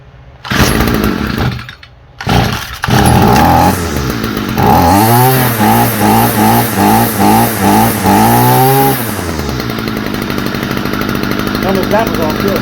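Stihl FS45 string trimmer engine, loud and close, sputtering and stalling, then revving in a rapid series of pulsing bursts before settling into a smoother idle, with someone speaking briefly over it.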